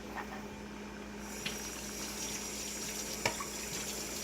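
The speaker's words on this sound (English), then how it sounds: "Let me just add a little bit of water in there." Water poured into a Mexican rice mixture in a pan, a steady hissing, trickling flow with a slight sizzle throughout, close by and fairly quiet, with no talking.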